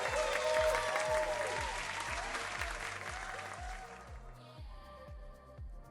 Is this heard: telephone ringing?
no